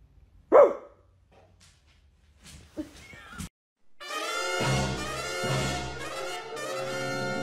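A single sharp dog bark rings out, followed by faint rustles and then a louder stretch of tonal sound.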